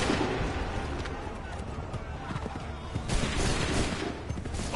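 A dense musket volley in the game Assassin's Creed 3 crackles as a continuous, rolling wall of gunfire and battle noise, with shouted voices mixed in throughout.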